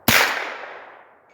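A bullet strikes a steel target in a single sharp metallic crack, a loud ringing clang that decays over about a second, with no voices.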